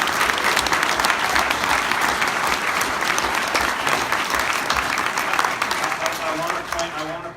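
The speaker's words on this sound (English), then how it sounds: "give a big round of applause to Mike McGuire" A town hall audience at HSU gives a sustained round of applause for California Senator Mike McGuire, loud, dense clapping that continues steadily and tapers slightly at the end.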